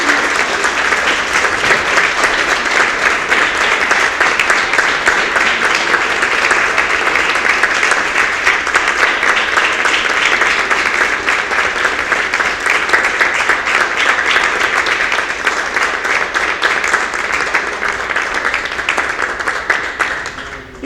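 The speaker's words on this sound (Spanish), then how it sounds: "Dale un fuerte aplauso a nuestro Señor." A large church congregation applauds loudly and steadily for a long stretch during a Sunday service, the clapping dense and unbroken before tapering slightly at the very end.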